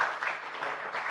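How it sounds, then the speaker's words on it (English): A short burst of steady clapping from a crowd, even and sustained throughout. "Give a round of applause for yourself."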